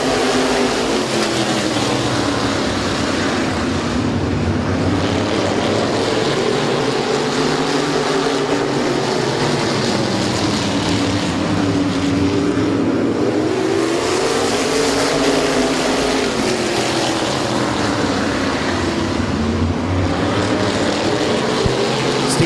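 Stock cars racing at Midvale Speedway just after the green flag, engines roaring continuously with rising and falling pitch as the pack laps past, loud and sustained with no voices heard.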